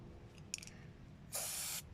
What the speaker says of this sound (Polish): To jest lepiej takim normalnym sprayem to robić.